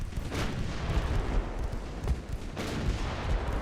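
Deep, rumbling naval gunfire from a P-class cruiser's main guns in Ultimate Admiral: Dreadnoughts rolls on continuously, with dull booms rising out of a dense, steady low roar.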